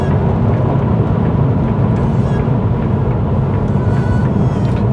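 A Mercedes C43 AMG with a 400 hp engine, exhaust in Sport Plus mode, gives a loud, continuous low-end roar while driving, a deep steady rumble filling the whole stretch with no talking over it.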